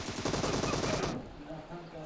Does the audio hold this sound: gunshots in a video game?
yes